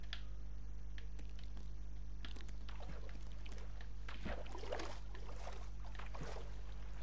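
Faint flowing, trickling water in a blocky sandbox video game, soft splashy patter over a steady low hum with no talk.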